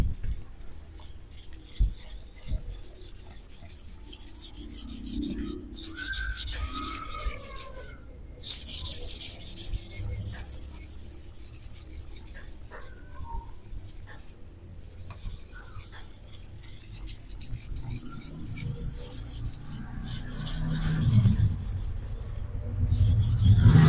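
A single-bevel knife is polished on a sharpening surface with light pressure, making soft, repeated rubbing strokes, a close, fairly quiet scraping rasp that comes in bursts with short pauses.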